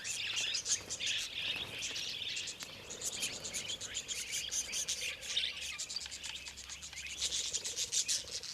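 Wild budgies chirp and chatter busily during courtship in outback tree hollows, a dense continuous flock of bright warbling calls, near and fairly loud, with no voices.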